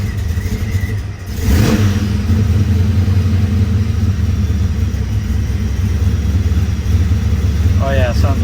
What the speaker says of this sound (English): So now we're gonna see what it sounds like with the valve shut on the exhaust. The blower should sound louder.